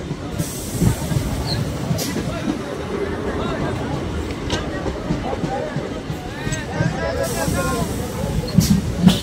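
A local memo train on the Naihati–Berhampore line rolls into a station, a steady rumble of wheels and carriage noise with occasional squeals and clanks throughout, loud and close, with people talking over it.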